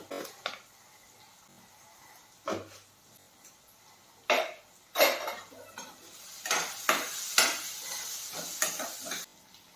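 Pots, pans and utensils clatter in a home kitchen during a busy morning, with scattered clinks and sharper bangs that come faster and louder toward the end, and no talking.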